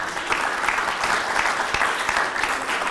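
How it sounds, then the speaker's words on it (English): Sustained applause from a crowd at a chamber of commerce legislative wrap-up event, steady and dense across the whole stretch, honoring committee members, with no talking over it. "Give these guys a round of applause"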